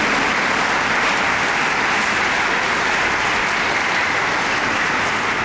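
Congregation in a Catholic church in Lahore applauding at Pentecost Sunday Mass, a steady, dense, loud wash of clapping from many hands that holds evenly throughout.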